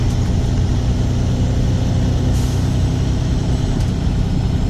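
A garbage truck with air brakes rumbles close by on tight Cincinnati streets, its engine a steady low drone throughout with a brief hiss of air release partway through.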